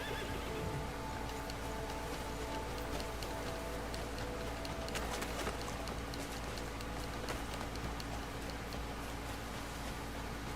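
A horse in the video game Crimson Desert whinnies over steady hoof clip-clop, set against a constant dense background hiss.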